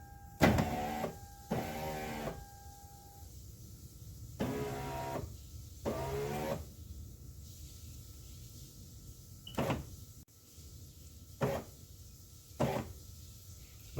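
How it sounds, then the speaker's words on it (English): The driver power window motor on a 2001 Lexus LS430 whirs in several short runs, each a second or so long, with clicks and quiet gaps between them. "Now I'm going to lower the window a little bit, turn the key on."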